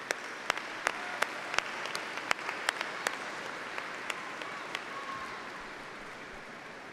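Students at a Texas State commencement ceremony applaud their family members and friends, a moderately distant crowd clapping steadily with sharp individual claps punctuating the even wash of sound.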